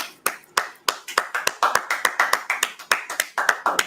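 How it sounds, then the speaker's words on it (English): A group clapping in a steady, brisk rhythm, sharp claps close and loud with no talking. "All right, let's clap it up."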